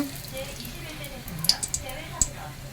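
Whole spices and a bay leaf dropped into hot oil: a soft, steady sizzle with a few sharp crackles and pops near the end, under a speaking voice.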